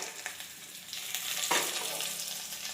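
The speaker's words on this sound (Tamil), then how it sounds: "கருவேப்பிலை போட்டுக்கலாம்." Curry leaves hit hot oil with frying onions for sambar, setting off a steady close sizzle that swells and crackles as they are stirred in.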